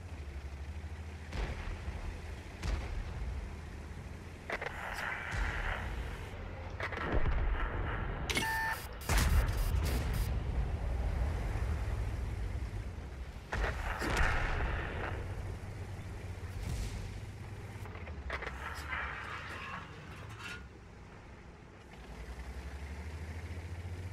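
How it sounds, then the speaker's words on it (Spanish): An EBR's mega cannon fires in a tank video game. Deep, booming shots land at intervals, with one sharp, loud blast near the middle, over a continuous low engine rumble. "El mega cañón del EBR que le he metido dos tiros y uno ha penetrado."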